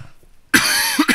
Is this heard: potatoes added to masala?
no